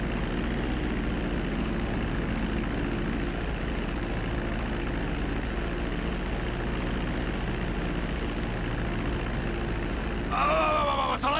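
Propeller airplane engine from Grand Theft Auto V, a steady droning hum held at even loudness throughout, with a brief louder rush near the end.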